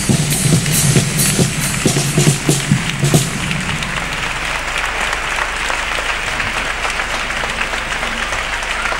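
A carnival theatre audience gives a chirigota troupe an ovation as its song ends; a few seconds of low rhythmic thumps give way to sustained, dense clapping and crowd noise at steady volume.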